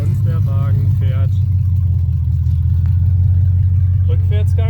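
BMW X5 E53 V8 idling low and steady after a transfer box repair as the SUV is shifted into drive and creeps forward, a constant deep engine rumble under someone talking.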